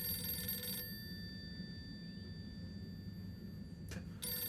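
A telephone rings in the game Harold Halibut, a thin, steady electronic ring that sounds through the first second, then fades to a quiet hum before a brief burst returns near the end.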